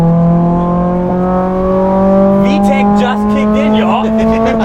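A Honda Civic Type R FN2 prepared for the Nordschleife race track revs hard and close, its engine note climbing steadily through the gears with a sharp shift partway, while people talk over it.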